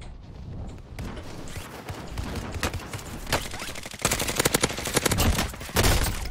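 Rapid gunfire bursts from the Call of Duty: Black Ops Cold War video game, with sharp repeated shots growing denser and louder toward the end, heard close with no talking.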